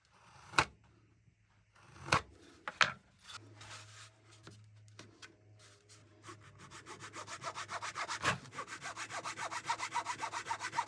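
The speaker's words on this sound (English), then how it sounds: "I'm using a model maker's saw because it's going to split the top at the least." A model maker's saw cuts into lyre soundboard wood. A few scattered knocks and scrapes give way to a quickening, even rhythm of close back-and-forth sawing strokes that grow louder toward the end.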